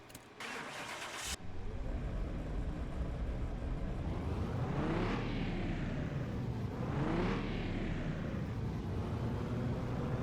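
A Nissan 370Z Nismo engine fires up with a short burst, then settles into a loud, steady idle broken by two rising-and-falling revs, heard up close with no talking.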